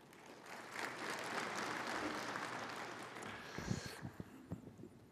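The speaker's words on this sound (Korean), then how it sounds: "큰 박수로 맞이해 주시기 바랍니다" A conference audience at a Korean regional forum applauds to welcome a speaker, a broad and steady wash of clapping that fades after a few seconds, followed by a few scattered claps.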